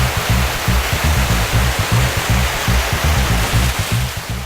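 A person plunging into a strong river current, heard as a loud, steady roar of rushing water with a rhythmic churning pulse in the low end and no voices.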